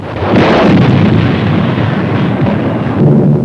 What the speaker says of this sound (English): the first mass bombing from the air of a helpless civilian population